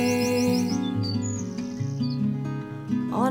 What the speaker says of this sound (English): On a chimney stack, a tiny bird with a big voice.